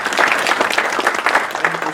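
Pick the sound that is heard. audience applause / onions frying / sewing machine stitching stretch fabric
audience applause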